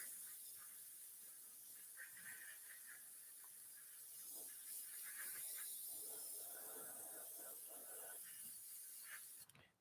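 Spray gun hissing steadily as a light first tack coat of paint goes onto a sportsman mod race car body, a soft continuous airy spray with faint shifts in intensity, cutting off abruptly at the end.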